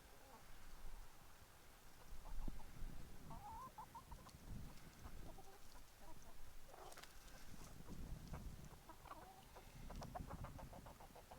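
Full-grown backyard hens clucking and chattering in a December garden in Deep South Texas, a steady mix of overlapping clucks at moderate distance over a constant outdoor hiss, with no talking.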